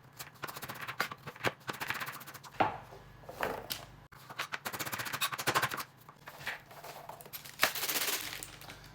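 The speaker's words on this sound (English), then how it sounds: "So I'm gonna cut these up." Vegetables being cut with a knife on a board in a home kitchen, a rapid run of sharp chopping taps in bursts, close and fairly loud, with brief pauses between flurries.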